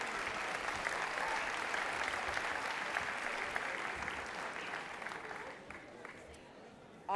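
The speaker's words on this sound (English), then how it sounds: "So a big round of applause for our musicians." A large audience claps steadily for a group of traditional musicians at the All-Ireland Scór na nÓg finals at Sligo IT. The dense, even applause fills the hall before thinning out toward the end.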